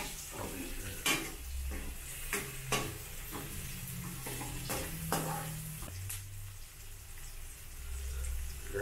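Onions sautéing in a pan before tomatoes go in for a ginataang tilapia with pechay, with a soft steady sizzle and repeated sharp spoon scrapes and clacks against the pan throughout.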